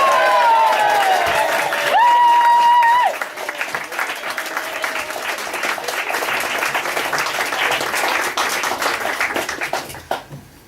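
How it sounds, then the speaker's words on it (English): Audience at an open mic night breaks into clapping and cheering after a sung tune ends, with a sustained held vocal note at first, then a few seconds of dense applause that fades out. "Let's raise a shout and cheer"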